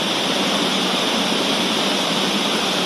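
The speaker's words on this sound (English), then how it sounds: "The way I try to listen to the sound of the waterfalls here." Steady, dense roar of falling water, broadband and unbroken throughout, like a nearby waterfall with no voices.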